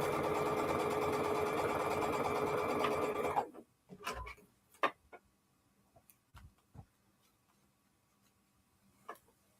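A sewing machine stitches fabric pieces together in a steady, loud run of about three and a half seconds, then stops, leaving scattered soft clicks and fabric handling noises.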